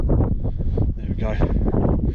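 Strong gusty wind buffeting the microphone on an open Dartmoor summit, a loud low roar rising and falling, with a voice talking over it.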